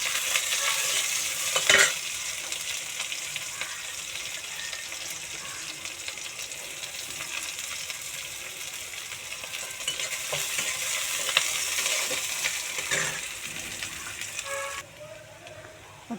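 Onions sizzle steadily in a hot pan for most of the stretch, a dense close frying hiss with occasional stirring clatters, then the sizzle drops away near the end.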